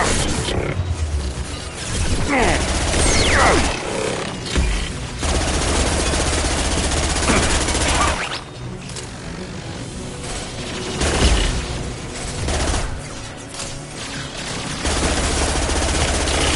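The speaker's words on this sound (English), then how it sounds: "Taking heavy fire." Heavy gunfire in the sci-fi shooter Mass Effect 2: loud, dense bursts of automatic weapon fire and impacts rattle on almost continuously, with brief lulls between volleys and a low battle rumble underneath.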